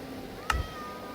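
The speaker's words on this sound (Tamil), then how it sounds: "என்ன மியாவுன்னுலாம் சொல்லி கேட்குது." A single short cat meow from the Minecraft video game sounds once, fairly faint and brief, over a quiet low game background.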